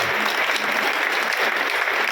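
Dense applause fills the whole moment at a political rally, loud and continuous, a crowd clapping steadily without a break.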